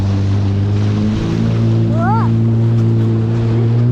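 A jet ski runs steadily on open water near Pserimos, its engine a constant loud drone with rushing spray and wind, and a brief rising whine partway through as the throttle shifts.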